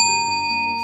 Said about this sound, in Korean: 종소리가 좀 크네요.